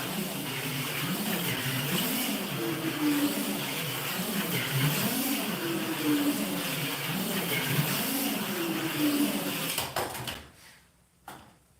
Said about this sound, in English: let's take this car for a spin